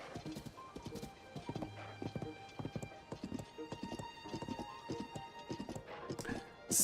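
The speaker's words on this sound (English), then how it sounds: "We just managed to catch a giant horse" Hooves of a giant horse in a Zelda game, steady clip-clop footfalls at a trotting rhythm, with a soft neigh partway through and a loud burst at the very end.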